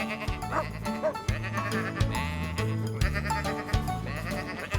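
Repeated bleats rise and fall in a layered chorus, cartoon sheep calling close together over a steady musical backing.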